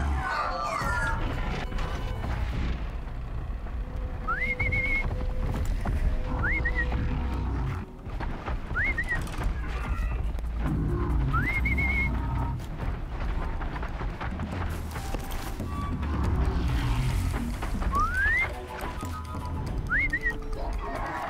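Short rising whistle calls in Horizon Zero Dawn, repeated about six times at irregular intervals over a dense, steady bed of game ambience and low rumble.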